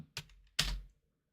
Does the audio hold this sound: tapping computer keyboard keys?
yes